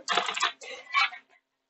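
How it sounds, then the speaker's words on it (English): Someone pounds hard on a keyboard in three heavy, close bursts of clattering keystrokes, then stops abruptly and leaves silence. "I'm typing too hard."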